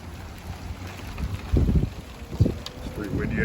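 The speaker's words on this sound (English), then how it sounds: "It's pretty windy out. I'm trying to do a swing off the edges. And it's raining pretty bad." Gusting wind and heavy rain during a December rainstorm in Toms River, with the wind buffeting the microphone in loud rushes. Someone talks over the storm.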